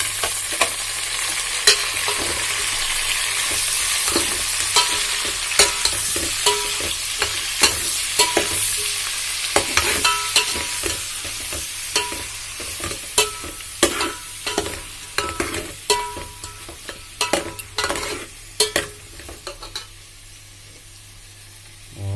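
Tomatoes hit a hot frying pan during northeast-style pork pasta cooking, giving a constant sizzle and hiss with frequent clicking, scraping stirs, up close and with no talking.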